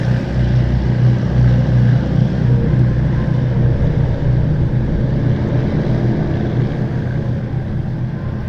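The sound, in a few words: aircraft heading for runway 23 at Southend Airport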